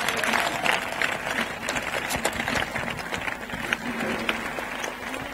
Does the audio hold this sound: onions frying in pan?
no